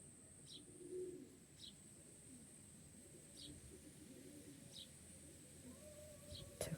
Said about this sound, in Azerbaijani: Quşu bıraxaq, biraz rahatlaşsın quş.